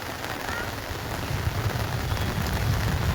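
Steady rain pours down on an outdoor football pitch during a casual game, a dense, even hiss of drops hitting the ground with a low rumbling undertone, constant and close throughout.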